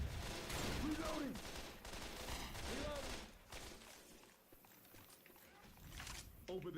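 Gunfire in the zombie shooter Left 4 Dead 2, with rapid bursts of shots, footsteps and game effects mixed under a player's voice, moderately loud.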